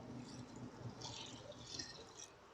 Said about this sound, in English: I use 1 liter of water.